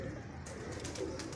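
A pigeon coos softly as it is held in the hand, with a low, faint throaty murmur and some handling noise in a quiet setting.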